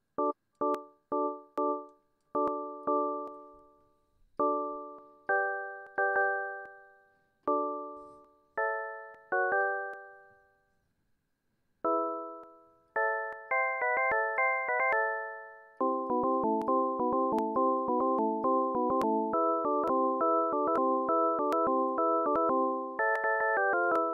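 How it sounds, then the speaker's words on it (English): A bell-like synth patch in Ableton Live Lite plays a sequence of chords, first as short plucked stabs with quick decays and gaps between them, then as denser sustained chords that ring continuously to the end. "sounds almost kind of bell-like there"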